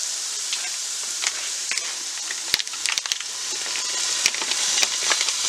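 Ground venison sizzles steadily in a pan, a dense close hiss of frying broken by scattered clicks and scrapes as the meat is stirred and broken up, with no talking.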